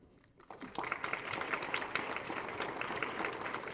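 A church congregation breaks into applause for a graduate during a worship service, a brief quiet opening giving way to steady, moderately distant clapping that fills the room.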